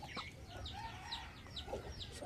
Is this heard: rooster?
yes